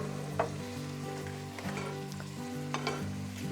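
Chopped steak and smoked sausage drop into a hot pot for baked beans, producing a soft sizzle with scattered stirring scrapes over a low steady background hum, no talking.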